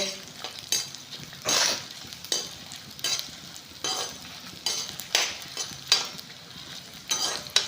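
Pirandai (veldt grape) and asafoetida frying in a pan in a home kitchen, with repeated scraping strokes of a spoon against the metal over a soft sizzle, close and fairly loud.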